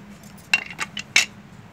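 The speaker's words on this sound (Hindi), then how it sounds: "अब मैं कुकर को खोल के आपको दिखाती हूँ।" A pressure cooker opened after boiling potatoes: a few sharp metallic clinks and clanks of the lid and pot, short and close, spaced over a quiet background.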